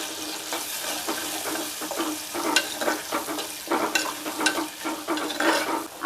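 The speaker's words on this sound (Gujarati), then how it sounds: "આપણે આ મસાલાને ચડવા દઈશું" Ground spices (turmeric, red chili powder, coriander-cumin powder and garam masala) sizzle in oil for aloo mutter sabji, with repeated scraping stir strokes over a continuous crackling fry, loud and close.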